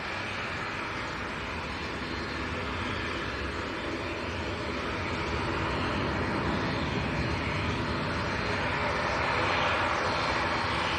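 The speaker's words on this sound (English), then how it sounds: "the Qatari A350 1000 series taxiing out as well at the moment" A Qatar Airways Airbus A350-1000 taxiing at Manchester Airport, a continuous loud jet engine roar that holds steady and builds slightly toward the end.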